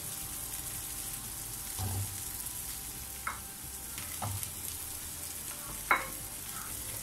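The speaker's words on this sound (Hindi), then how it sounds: "अब हम फ्राई किए हुए गोला कबाब इसमें ऐड कर देंगे।" Fried chicken gola kebabs stirred into sizzling masala make a soft, steady frying hiss, broken by a handful of brief spoon scrapes and clinks, one louder than the rest.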